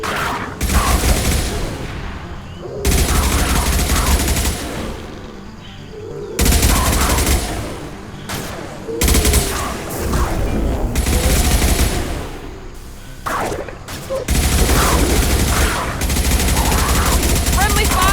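Rapid bursts of gunfire in the Mass Effect video game during an ambush before a shuttle extraction, loud repeated volleys with short pauses running throughout, mixed with sharp impacts.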